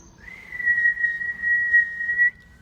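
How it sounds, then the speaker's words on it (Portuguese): A single long, steady whistle tone sounds clearly and alone for about two seconds, close and fairly loud, then cuts off. "Um apito"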